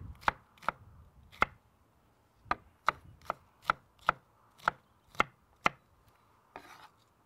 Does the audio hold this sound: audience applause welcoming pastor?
no